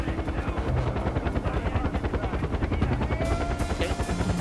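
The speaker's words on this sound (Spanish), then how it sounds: "Vamos a intentar que se vaya el helicóptero antes de movernos." A helicopter in the video game Far Cry 4 hovers close by, its rotor beating in a rapid, even chop under a constant engine whine for the whole stretch.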